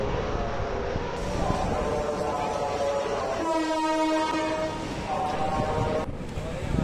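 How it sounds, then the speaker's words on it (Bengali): A passenger train pulling into Kamalapur railway station, Dhaka, with a sustained rumble of rolling cars, a long tonal horn sounding in the middle and station crowd noise around it. "বেশ কিছুক্ষণ ওয়েট করার পর এখন আমাদের ট্রেন চলে এসেছে।"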